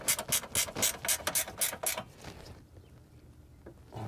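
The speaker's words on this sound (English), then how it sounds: "now we'll go back and tighten the middle one down" Ratchet tightening small radiator bolts on a 2006-2010 Toyota Camry, a quick run of crisp clicking bursts for about two seconds, close up, then quiet with faint background noise.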